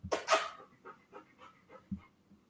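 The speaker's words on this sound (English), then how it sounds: "He's a Bernese Mountain Dog." A Bernese Mountain Dog panting close by, a run of quick soft breaths after a couple of louder huffs at the start, faint and rhythmic with no talking.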